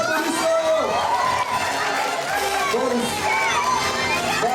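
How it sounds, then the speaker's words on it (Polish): Excited crowd cheering and clapping at a children's battle competition in the under-6 category, with children shouting and lively chatter throughout, loud and continuous. "Wielkie brawa!"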